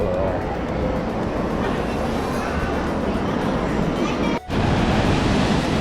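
Ocean waves break at Surf City beach in El Salvador, a loud, continuous roar of surf mixed with wind buffeting the microphone, with a brief dropout near the end.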